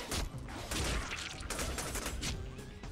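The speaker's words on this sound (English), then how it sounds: "Just shoot him! How the hell do you fools keep missing?" Gunfire in the Deadpool video game, rapid overlapping bursts of shots crackling fairly faintly and continuously.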